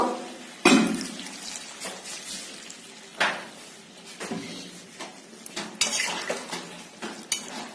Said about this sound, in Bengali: নাড়াচাড়া করে এখন এখানে আমি ফুটিয়ে রাখা গরম জলটা দিয়ে দেব